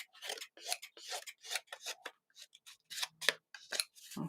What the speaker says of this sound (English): I'm just going to trim those fluffy bits off the edge there.